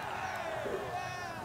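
Crowd cheering in a superhero TV series episode, a diffuse wash of distant voices and whoops, moderately faint, with a bit of chatter mixed in.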